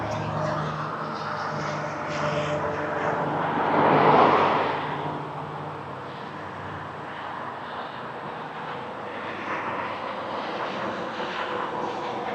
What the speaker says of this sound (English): This is Air Canada Flight 7051 from Montreal. It's an A220-300.